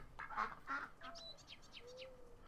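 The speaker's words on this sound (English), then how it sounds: "Here's some ducks." Ducks on a farm in the Farming Simulator video game give a quick run of honking quacks, several short nasal calls close by with no one talking.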